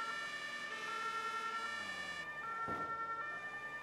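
Police siren from the Notruf 112 emergency-services game, with the Martinshorn two-tone horn and the electronic E-Horn wailing together, loud and steady and layered with engine drone, with a brief burst partway through.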